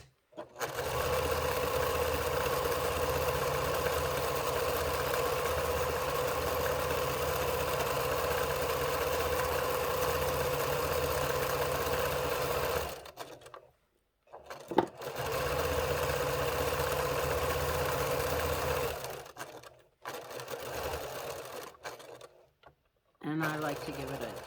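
A sewing machine stitches a hot dog pillowcase in a long, steady, close mechanical whir. The motor then stops and restarts in shorter runs, with brief silent pauses between them.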